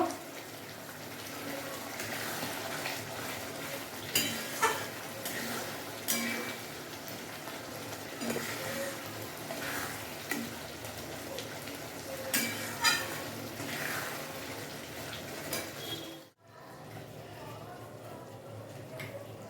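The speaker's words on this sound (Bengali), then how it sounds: "সেই ডিমটা আমি এর মধ্যে দিয়ে দিচ্ছি, দিয়ে আমি আরও কিছুক্ষণ ভেজে নেব" Khichuri with a fried egg mixed in, frying in a pot and being stirred. A soft continuous sizzle runs under repeated scraping clatters of the spoon, and the sound cuts off abruptly near the end.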